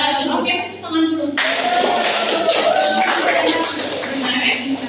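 Kindergarten children clapping their hands in a classroom health lesson about drinking water: a few rhythmic claps first, then a fuller burst of clapping mixed with children's voices and chatter.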